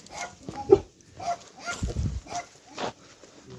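A dog barks in a string of short, hoarse, close yelps and whines, roughly one every half second, after a night of howling in a village settlement.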